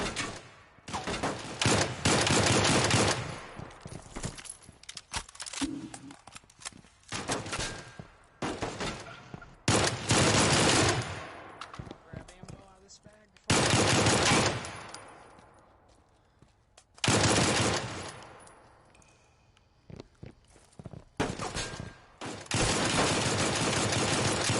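Bursts of video game gunfire trade back and forth between squads in a tournament match, loud automatic volleys separated by quieter gaps, with some shots sounding farther off.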